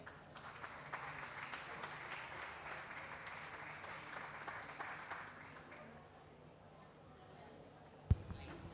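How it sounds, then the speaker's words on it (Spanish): An audience at a youth forum in Gijón gives soft, distant applause that carries steadily for several seconds and then fades out, followed by a single sharp knock. "un aplauso para Nuria."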